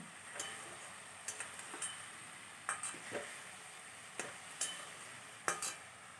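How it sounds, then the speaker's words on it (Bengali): A hilsa fish head sautés with chilli powder in a pan: a soft, continuous sizzle is broken every second or so by sharp spatula scrapes and taps against the metal, close and fairly quiet. "একটু লঙ্কা গুঁড়ি দিয়ে দিলাম আর কিছু মশলা না শুধু কষাবো সুন্দর করে"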